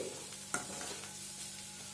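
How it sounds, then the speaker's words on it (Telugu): Beetroot frying in a pan while being stirred, a quiet steady sizzle with one brief clink of the spoon against the pan. "ఒక నిమిషం పాటు కలుపుకోండి ఇలా ఒక నిమిషం పాటు వేపుకున్న తర్వాత స్టవ్ ఆపుకోండి"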